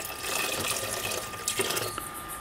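Water pours steadily into a measuring container for a water-level test, a continuous close splashing rush with small bubbling fluctuations and no talk.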